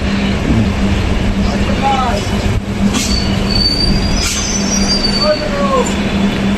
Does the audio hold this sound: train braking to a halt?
yes